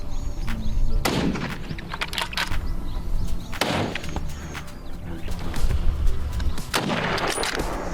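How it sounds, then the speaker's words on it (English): Rifle shots during a wild hog hunt, several sharp cracks spaced a second or two apart over a busy outdoor background, loud and close, with a few softer impacts between them. "More shots followed in quick succession, taking down several others."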